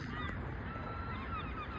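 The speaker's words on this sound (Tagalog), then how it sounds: "Yan, napakaingay. Yan, lahat ibon yan." Thousands of birds in a huge flock, a dense, noisy wall of overlapping honks and calls, like geese, continuing steadily without a break.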